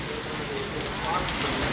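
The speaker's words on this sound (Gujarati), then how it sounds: "એંજારમાં ચાલુ વરસાદ છે" Steady rain falling across the Rann-edge villages around Halvad in Gujarat, a continuous broadband hiss of drops on surfaces with no breaks, fairly close and evenly loud throughout.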